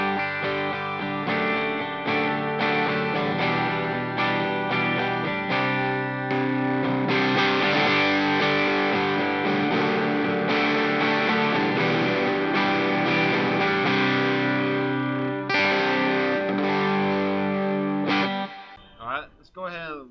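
Overdriven electric guitar running through dual overdrive pedals plays a continuous chordal riff for about eighteen seconds, loud and close, ending in a short scrape of noise.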